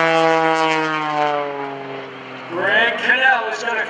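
A Pitts Model 12 aerobatic propeller plane flies at an airshow, its engine drone sliding down in pitch as it passes, then rising and wavering during a manoeuvre, loud and close under an announcer's commentary.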